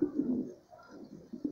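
Homing pigeons coo softly in a loft at close range, several low throaty burbles repeating in short phrases, with a brief quiet gap in the middle.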